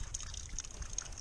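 Water trickles and filters through rocks in the Baja desert, a faint, close, delicate dribble with small bubbling splashes over a brief stretch.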